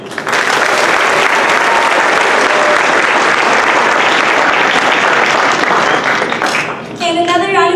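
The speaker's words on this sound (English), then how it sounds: "And another round of applause for all the parents who have been nothing but supportive of all of our players." A theatre audience at a student company's production of Coraline breaks into loud, sustained applause that fills the room, with a few brief whistles or cheers rising near the end.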